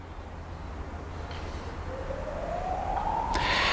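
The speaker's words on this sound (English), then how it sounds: "There is some noise around with some sirens" Police sirens wail faintly in the distance over a steady background hum, one rising tone emerging in the last seconds as traffic-like noise grows slightly louder.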